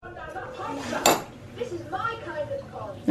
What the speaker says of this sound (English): just wash the dishes first